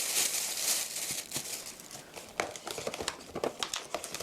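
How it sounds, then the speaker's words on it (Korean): A plastic bag crinkles and rustles while being handled in a home kitchen during prep for braised chicken with green onions, giving irregular close crackles and crisp bursts with no talking. "이건 비닐팩이에요"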